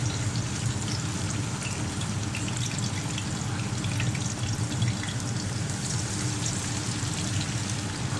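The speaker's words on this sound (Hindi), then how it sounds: "ये देखें, ये डाला है और ये फ्राई हो रहा।" Raw minced-meat qeema kababs, four patties at once, sizzle in hot oil with a dense, continuous crackle that stays loud and steady throughout.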